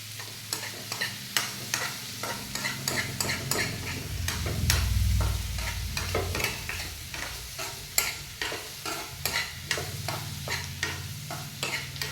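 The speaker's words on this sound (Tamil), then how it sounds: "வதக்கிட்டு நம்ம கிரேவி ரெடி பண்ணணும்." Gravy ingredients are sautéed in a pan, with an ongoing sizzle and a rapid, repeated scrape of stirring, close and fairly loud, with no talking.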